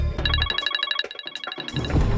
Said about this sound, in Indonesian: Hah, mertua aku telepon.